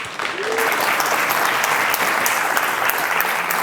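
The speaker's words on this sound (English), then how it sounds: "Let's give him a warm applause." An audience applauding at a Ruby programming conference talk, dense sustained clapping that starts abruptly and holds steady at a moderate distance.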